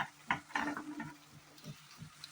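Stuffed brinjals are turned in oily masala in a pan: a quiet run of irregular spoon knocks and scrapes over a low, faint frying sizzle.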